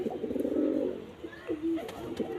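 Pigeons coo nearby in low, throaty rolling calls, one long coo followed by shorter ones, with a few faint clicks in the background.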